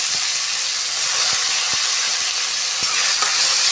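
Long beans and onions frying together in a pan give off a loud, steady sizzling hiss with a few soft clicks and pops scattered through it.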